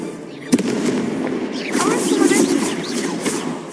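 A Confringo blasting spell goes off in Hogwarts Legacy, a sharp burst followed by crackling, firework-like explosions and a rumbling, rushing blast, with a voice speaking over the game sounds.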